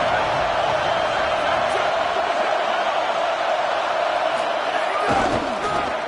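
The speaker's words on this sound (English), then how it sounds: "This crowd ready to make its presence known." A football stadium crowd roars in a sustained, loud wall of cheering and noise, with brief whoops and thumps breaking through near the end.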